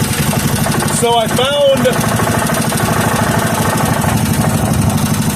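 A 3 hp Briggs and Stratton small engine runs steadily close by, its rapid, even put-put continuing loudly for the whole stretch while someone talks briefly over it.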